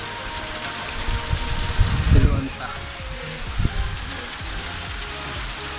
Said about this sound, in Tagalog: sobrang malakas ang hangin at saka malakas ang ulan